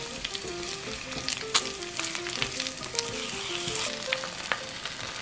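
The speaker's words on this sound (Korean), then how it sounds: "팬에 식용유를 두르고 마늘과 파를 넣으세요. 약불에서 대파가 흐늘흐늘 기운이 없어질 때까지 볶아주세요." Garlic and green onion stir-fry in cooking oil in a pan over low heat, a continuous crackling sizzle with frequent sharp pops and scraping stirs, fairly close and with no talk.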